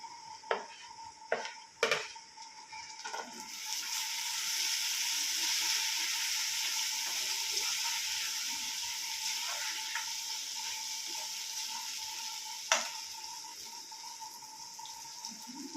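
Onion fries in a pan for chhole bhaji as tomatoes go in, a few sharp clanks at the start giving way to a strong, steady sizzle that continues with one later clink, with no talk.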